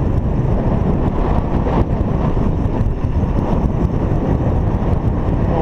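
Steady, loud wind buffeting the microphone while road cycling through Lusaka, Zambia, a constant roaring rush with no breaks and no voices.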